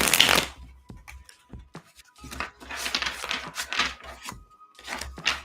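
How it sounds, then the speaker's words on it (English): A deck of tarot cards is shuffled by hand near the listener in several riffling bursts with short gaps between them, with no speech. "Let me try that shuffle one more time."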